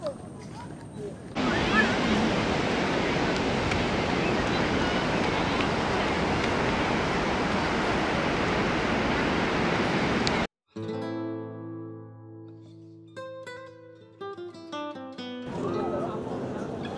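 Surf washes up on the beach at Henry's Island, Bakkhali, as a broad continuous roar with wind buffeting the microphone. It cuts off abruptly and gives way to a musical passage.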